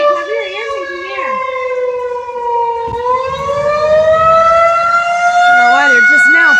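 A tornado civil defense siren wails loudly and steadily, its rising and falling harmonic tone dominating throughout, with people speaking nearby beneath it.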